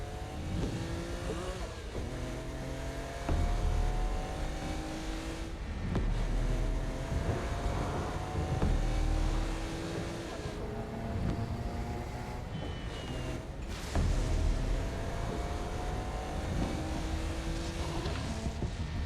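Car driving in the Saints Row: Gat Out Of Hell video game, a steady engine drone with shifting revving tones and surging bursts, moderately loud and continuous throughout.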